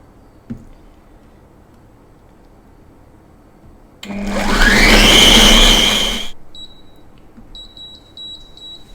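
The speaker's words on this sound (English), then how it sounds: "So all we're going to do is blitz this into a nice smooth puree" A kitchen blender blitzes mango into a smooth puree in one loud, close burst of about two seconds after a quiet start, then stops, leaving a few faint electronic beeps.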